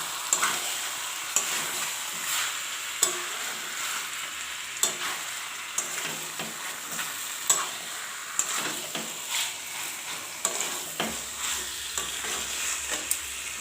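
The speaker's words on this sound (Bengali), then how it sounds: "ঢাকাটা খুলে দিয়ে আমি ভালো করে একটু নেড়ে নিচ্ছি" Chicken curry being stirred while it fries in a pan: steady sizzling with repeated scraping strokes and small clinks of the utensil against the pan, close and alone without talk.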